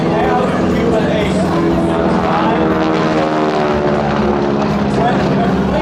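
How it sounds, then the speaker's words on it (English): A 600 hp Pratt & Whitney air-cooled radial engine on a stunt plane at a riverfront airshow gives a loud, steady, throbbing rumble that fills the air without letup, with an announcer talking over it. "Now the rumble that you hear, that's a radial air-cooled engine. Pratt & Whitney built it at 600 horsepower."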